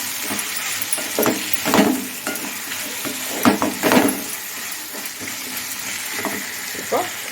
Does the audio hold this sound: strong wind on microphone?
no